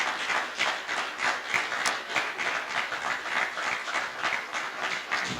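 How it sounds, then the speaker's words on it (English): An audience at the KARA Awards 2023 ceremony gives a steady round of applause for resident association chairpersons, dense clapping filling the room at an even level throughout. "Give him a round of applause,"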